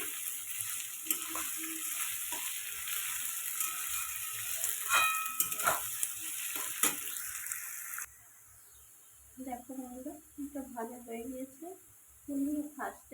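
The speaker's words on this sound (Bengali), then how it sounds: "কাজু বাদাম কিশমিশ দিয়ে দিচ্ছি সব ভালো করে ভেজে নেবো" Cashews and raisins fry in a pan for fried rice, hissing steadily up close with a few stirring clinks for about eight seconds. The sizzle then cuts out and someone talks in the quiet that follows.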